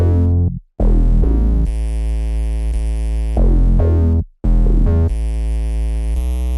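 Two layered 808 basses, Dillard 2 and Evangelic, playing a loud, deep pattern of sustained notes with sliding attacks and two brief dropouts, without any voices.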